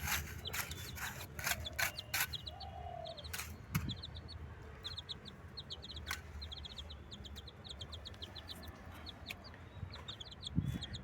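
Young chicks cluck and peep in quick repeated bursts while foraging on a morning, with occasional louder clucks and a soft rustle of scratching nearby; no voices.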